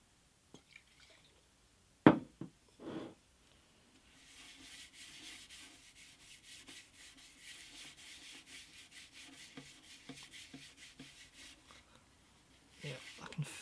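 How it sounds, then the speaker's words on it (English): A cloth rubs alcohol onto the crazed shellac finish of an antique parlour guitar, a soft steady scrubbing close by, with a few sharp knocks early on and a voice talking at times. "now I'm going to get some alcohol and rub that in"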